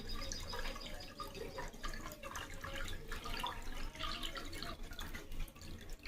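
A household tap runs with muddy, dirty water, a steady splashing and dripping flow at close range that stays fairly constant throughout, with no talk over it.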